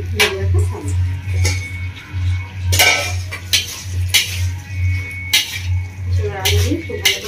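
Jackfruit stirred in a pan of tomato-based sauce for a Bengali prawn and jackfruit curry: repeated clanks and scrapes of a utensil against the pan, loud and close, over a steady low hum.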